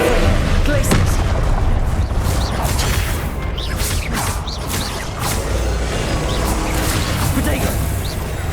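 A Glacius ice spell cast in the video game Hogwarts Legacy, loud whooshes and booming impacts over a dense, continuous combat din with no clear pauses.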